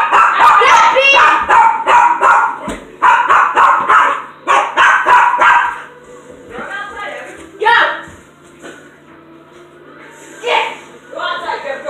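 A dog barks loudly and repeatedly in quick bursts at close range, then gives a few scattered yips, with people talking over and between the barks.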